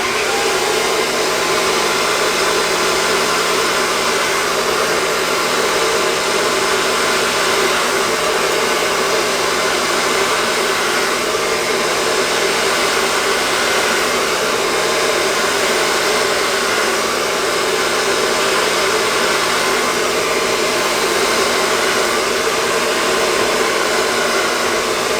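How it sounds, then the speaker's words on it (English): A hair dryer on its highest setting blows steadily at a beard, a loud, unbroken roar with no break and no voices. "get a blow dryer, put it to the highest setting"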